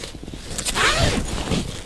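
A zipper on the upper compartment of a Comfort Bag 2 auxiliary fishing tackle bag is pulled open in one steady, close, raspy run with no one talking.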